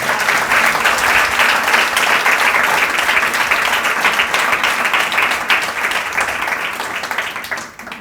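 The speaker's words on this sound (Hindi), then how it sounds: "ताली तो बहुत लंबी खिंच गई" A large audience applauds at a Guru Purnima spiritual discourse in Pune, loud sustained clapping that carries on for several seconds before gradually fading.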